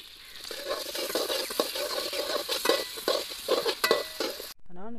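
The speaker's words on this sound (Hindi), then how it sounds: "में प्याजों को भुनी भी आ रही है" Onions fry in a pan at a village evening meal, a steady close sizzle with scraping stir strokes and utensil clatter running for several seconds, then cutting off sharply near the end.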